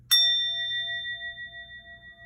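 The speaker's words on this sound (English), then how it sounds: "I'm going to do a little sound bell" A single meditation sound bell is struck once, ringing clearly and alone with a long, slowly fading tone.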